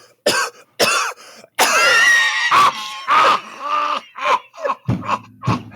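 A voice imitates his father coughing while drinking liquor: loud, harsh hacking coughs and throat-clearing bursts in uneven clusters, close to the mic, ending in groaning sputters.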